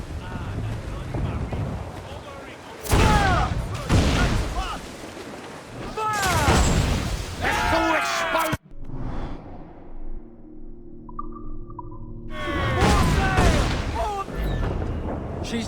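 Ship cannons fire during a naval battle in Assassin's Creed IV Black Flag: several heavy, loud booming volleys arrive in separate bursts, with a quieter gap of creaking and crew noise between them.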